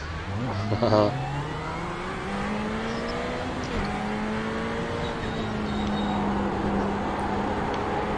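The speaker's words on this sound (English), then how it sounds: "it sounds like a Ferrari" A Ferrari 488 GT3 in iRacing revs up from a sharp burst into a steady, loud engine tone that holds and slowly rises, with a voice talking over it briefly.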